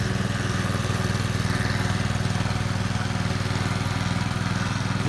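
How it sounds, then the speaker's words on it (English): Husqvarna ST124 petrol snowblower engine running after starting, a steady, rapid putter with a rhythmic low chug under broadband mechanical noise at moderate loudness, no talk. "Press the ignition button, set the engine speed, and you'll be ready to go."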